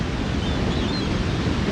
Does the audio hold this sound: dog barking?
no